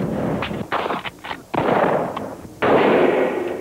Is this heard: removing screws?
no